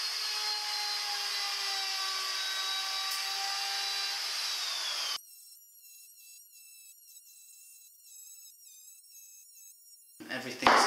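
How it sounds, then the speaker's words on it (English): A wood router trims plywood edges for a small hidden spice rack in a camper van, giving a steady high whine for several seconds, then shorter intermittent bursts, fairly quiet overall. "I'm going to route these three edges in the same manner that we did with the kitchen"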